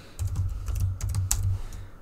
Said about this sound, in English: it's so much harder to use a calculator on a keyboard